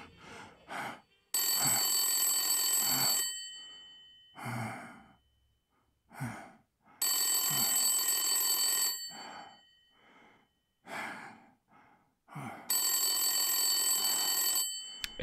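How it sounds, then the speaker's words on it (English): An old-style telephone bell rings in the noir detective game Blacksad: Under the Skin, three loud bursts of about two seconds each, separated by soft sighs and breathing. "Answer the phone, Blacksad."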